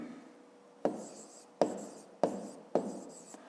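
Pen strokes on paper during a fifth-grade geometry exercise: four sharp, scratchy writing bursts at a steady pace, close and fairly quiet, with no talking.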